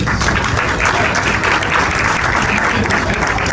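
An audience at a French-language stand-up comedy show breaks into loud, continuous applause, a dense wash of clapping filling the room with no break.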